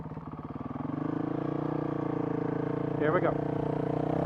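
Honda CRF 450 RL motorcycle engine fitted with a Taipan AIM ECU, idling with a steady throb that swells into a rev and holds high, with a short sharper burst near the end; a voice speaks briefly.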